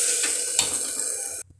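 Tomatoes sauté in a pan with sambar powder and turmeric for paruppu sambar, giving a close, steady sizzle with light stirring that cuts off abruptly near the end.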